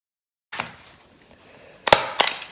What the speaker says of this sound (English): So we start stapling at an edge here.